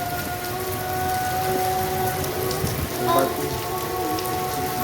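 Heavy rain pours steadily onto surfaces in Sialkot, Pakistan, in a dense, continuous hiss, with a faint low rumble in the background.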